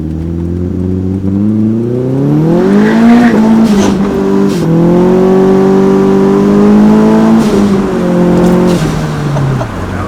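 Nissan 240SX engine revving hard under boost, a loud, close turbocharged pull that climbs in pitch, dips, then surges again across several sustained rising strokes without any talking.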